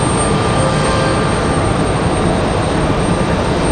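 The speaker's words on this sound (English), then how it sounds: "It's American A321, I believe," An American Airlines Airbus A321 jet at Raleigh-Durham International gives a brief, loud, steady engine roar with a thin high whine, heard alone.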